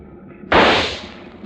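A rifle is fired from a ship at a finned target in the water. One loud, sharp crack bursts out alone and fades into a short rumbling tail.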